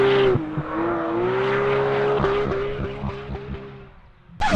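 A stock Porsche GT3 RS slides sideways in a drift, its tires letting out a long sustained squeal over the roaring engine, close and loud, fading briefly before a sharp burst at the end.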